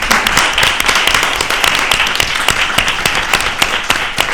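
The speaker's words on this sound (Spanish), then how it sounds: "Un aplauso gigante" A crowd applauds continuously, dense clapping from many hands filling the space at steady volume for several seconds.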